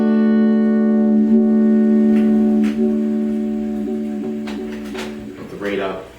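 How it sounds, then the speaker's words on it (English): A guitar sustains notes through a Duovibe vibe effect pedal set to slow speed, with a gentle, slow throbbing wobble across the held chords and a few picked changes. "you can hear a little bit more of a vibe sound, especially on slow speeds"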